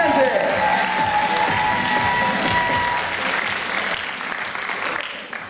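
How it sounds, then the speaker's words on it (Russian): A crowd applauds at a celebration for top students at the Chelyabinsk State Institute of Culture, with dense, sustained clapping and some cheering that slowly fades toward the end. "Аплодисменты!"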